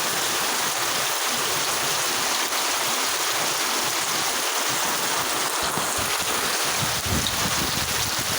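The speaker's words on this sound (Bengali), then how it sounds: "হঠাৎ করে বৃষ্টি নামলো এবং এটাকে বলে মুসলদার বৃষ্টি" A torrential monsoon downpour roars loudly and continuously over a village, with deep rushing water flooding the roads underneath; no one speaks.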